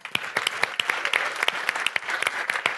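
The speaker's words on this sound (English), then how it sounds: "a round of applause for all the retail companies" Audience applause at a Salesforce Accelerate graduation night for retail companies, with sharp individual claps spiking over a steady patter, fairly close and lively throughout.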